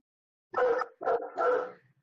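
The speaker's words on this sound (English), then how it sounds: "I'm sorry for the dog barking in the background" A dog barks three times in quick succession, close and fairly loud, against a quiet background.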